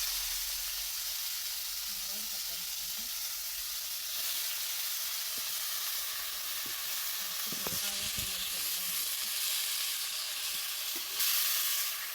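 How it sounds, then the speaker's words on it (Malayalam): Chicken sizzles in a pan over an outdoor wood-fired stove, a steady loud hiss of frying with scattered clatters and scrapes of stirring. "അപ്പം ഞാനിതാ ചിക്കൻ ചട്ടിയിലേക്ക് ഇടുമായിരുന്നു"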